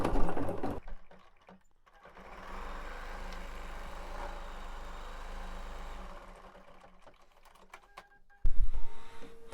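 An embroidery sewing machine runs a double tack-down stitch, a steady mechanical hum for a few seconds that fades out before handling clatter returns.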